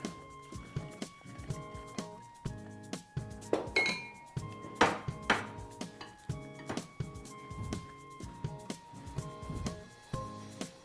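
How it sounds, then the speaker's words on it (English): Spoon working through apples, mayonnaise and cream in a bowl, giving a steady series of light clinks and scrapes against the dish, close and fairly quiet, with no talking. "So we mix these ingredients together. Then add the apples to it."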